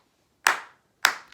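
A pair of crisp, close hand claps roughly half a second apart, each with a short fading tail, followed by a faint tap; otherwise quiet with no speech.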